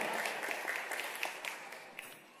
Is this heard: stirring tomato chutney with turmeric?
no